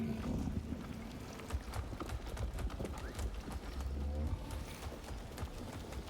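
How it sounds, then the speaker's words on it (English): Saddled horse-like animals in the climbing game Jusant trot with soft clip-clop hooves and a whinny, faint and steady over a low wind-like background. "some horse-like animals of sorts"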